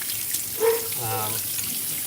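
A tap runs briefly as hands are washed, a soft, near splash of flowing water lasting about a second, with a voice faintly present.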